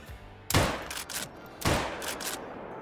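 Two rifle gunshots in the hunting game Call of the Wild, each a sharp loud crack followed by a rolling echo, about a second apart, with no talking.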